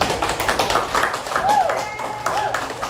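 Students in a classroom clap together in scattered, uneven bursts, fairly close, while a voice speaks over the clapping.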